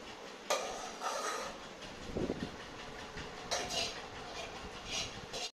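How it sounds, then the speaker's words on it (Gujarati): Used dishes are gathered and carried off after a family meal at home, giving a few separate clattering, clinking bursts spread over several seconds against a low indoor background. "વાસણ લઈ જઈએ"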